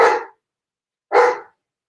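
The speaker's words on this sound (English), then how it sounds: "you can obviously hear my dog" Two sharp, close dog barks spaced about a second apart, loud and clear against silence.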